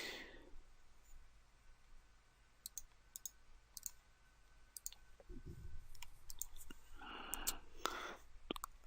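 Computer mouse clicking during work on a freelancing website, a scatter of sharp, quiet, close clicks spread irregularly over a hushed background, with a few soft breathy noises in between.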